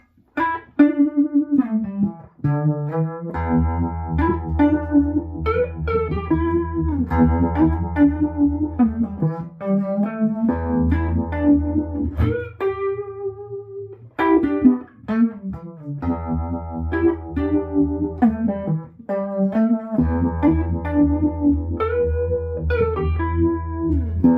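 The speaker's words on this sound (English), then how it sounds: "the first pedal, the Fulltone Deja Vibe. Let's hear it." Electric guitar through a Fulltone Deja Vibe pedal plays melodic phrases with a warbling, swirling vibe modulation, sustained chords and single notes, continuous and fairly loud, no talking.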